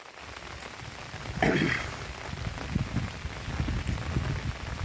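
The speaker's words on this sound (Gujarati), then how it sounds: "અને હજી ઝરમર ઝરમર વરસાદ તો ચાલુ જ છે જોઈ લેજો" Light drizzle patters steadily on a farm field, with a brief brighter rush of drops near the start and a soft, even wash throughout.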